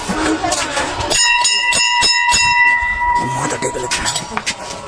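A temple bell is struck several times in quick succession before entering a temple, ringing tones layered over footsteps and background voices of people talking nearby.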